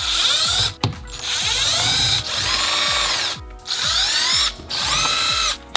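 A power drill with a driver bit backs out several T20 Torx screws from BMW interior trim, running in four loud, close whirring bursts separated by brief pauses, with no talking.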